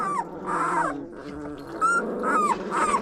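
A dog's low growls mixed with whiny yelps and whimpers, close by in a village, in uneven bursts over a few seconds.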